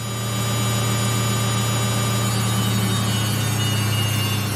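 A Samsung front-load washing machine spins at 1,200 RPM, giving a loud, constant, droning hum with a steady whine, unbroken throughout with no talking.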